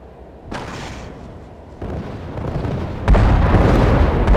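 Weapons fire booms through mech combat in a video game, heavy bursts landing in stages and growing louder toward the end, with rumbling explosive blasts layered over the low end.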